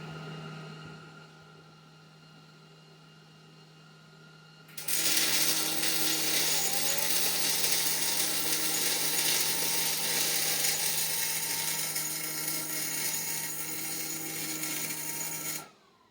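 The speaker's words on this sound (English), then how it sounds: "I'm going to turn the power down on the welder just ever so slightly and see if we can continue to weld." A Millermatic 211 MIG welder running off a 24-volt bank of used group 31 batteries, first a steady electrical hum, then a loud continuous crackling, sizzling arc that burns close for about eleven seconds before cutting off.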